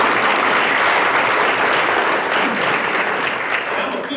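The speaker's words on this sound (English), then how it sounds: "Round of applause for this food right now." An audience at an Owasso Chamber of Commerce event claps for the food, a loud, sustained round of applause from a room full of people, even and dense for the whole stretch with faint voices beneath.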